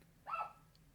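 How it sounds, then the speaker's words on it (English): A single short dog bark, faint and somewhat distant, heard alone over a low steady hum in an indoor room. "pardon my dog barking"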